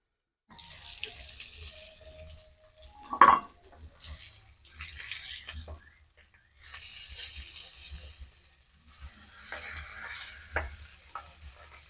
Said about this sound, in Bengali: মাছটা ভাজা হয়ে গেছে তুলে নিচ্ছি